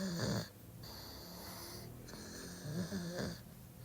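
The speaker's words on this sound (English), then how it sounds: "I put my pug dog on the bed, and pug dogs make a lot of noise." A pug dog on a bed snorts and wheezes in slow, rhythmic bursts, each breath a rough snoring rasp with airy whistling, close and fairly quiet.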